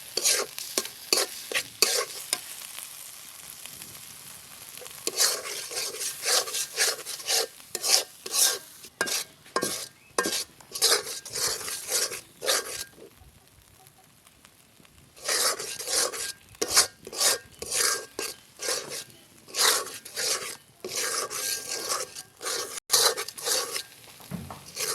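Ground peanuts and pointed gourd are stirred in a pan with spices and oil, a steady run of close, rasping spatula scrapes over soft sizzling, pausing briefly midway before the rapid stirring resumes.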